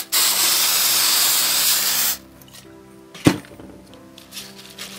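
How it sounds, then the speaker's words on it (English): A continuous hiss of hairspray sprayed onto a hair bow lasts about two seconds, close and loud, followed by quiet shuffling and a single sharp tap. "we are going to spray our hair bow with hairspray"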